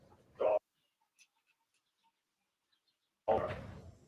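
Dog in a courtroom gives two short, close barks or yelps about three seconds apart, with near silence in between.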